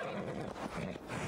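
A horse whinnies in Assassin's Creed Valhalla, a short, loud neigh mixed with game ambience and a brief clatter of hooves.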